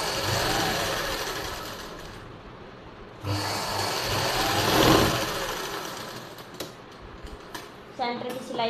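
A sewing machine runs in long bursts while stitching the neck onto a silk suit, a close, steady mechanical whirr that rises and falls, followed by a few short clicks and taps.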